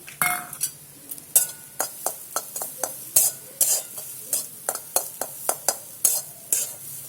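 Grated coconut is stirred and fried in a hot wok, a steady series of sharp scraping strokes of the spatula against the metal, close and regular, with a faint sizzle underneath.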